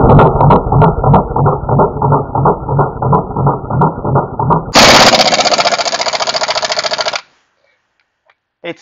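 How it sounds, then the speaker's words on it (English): A pneumatic impact wrench hammers on a seized lug nut in rapid, rhythmic bursts, then shifts to a higher, faster whirring rattle before cutting off into silence; loud and close, with no speech. "What I have here is a pneumatic impact wrench."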